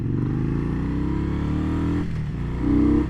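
A 2020 Indian Scout Bobber, not stock, with a 2-into-1 exhaust, rumbles close by at a steady deep idle, then revs briefly toward the end, loud and without speech.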